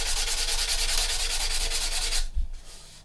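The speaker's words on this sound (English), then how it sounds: "we're just going to cut back to the sanding stick" A sanding stick rubs along the edge of a Revell 1/32 He111 plastic model kit part in quick, steady, close strokes. The scraping stops abruptly near the end, leaving a quiet tail.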